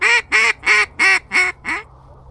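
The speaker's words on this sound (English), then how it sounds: "There's some more geese coming." Six loud, close honks in an even rhythm from a goose during a goose hunt, each one a short nasal call, the last slightly weaker, followed by quiet.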